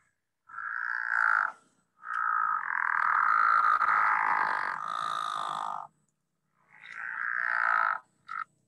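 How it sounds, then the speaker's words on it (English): Pickerel frog giving its groaning, snoring calls at a spring vernal pool: three drawn-out croaking bursts, the middle one nearly four seconds long, then a short final grunt. The calls are close and loud, with silence between them. "Kind of a groaning sound. That's the pickerel frog, one of the frogs with spots."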